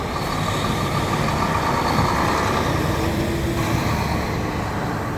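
Trucks drive by on a busy road near an airport, a dense, steady roar of heavy engines and tyre noise that fills the scene without a break, with no talking.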